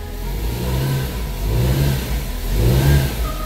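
A Chevy Spark engine revving during a transmission stall speed test, its note rising in three successive surges while the locked-up drivetrain holds it near 2000 RPM; steady and close, no talk.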